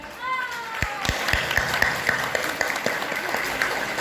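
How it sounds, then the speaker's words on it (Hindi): Scattered claps and applause from an audience at a Bhim Sankalp Diwas stage drama in Morna, Noida, with irregular sharp hand claps and crowd noise, a few high tonal sounds near the start. "जोरदार तालियों के साथ में स्वागत करिए"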